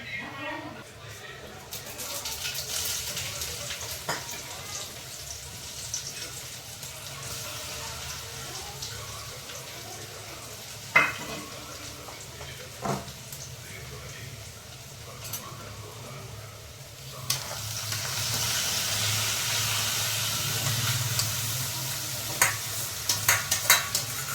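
Fenugreek leaf curry tempering sizzles in a pan, a steady hiss that grows louder toward the end, with a few stirring clicks and people talking throughout.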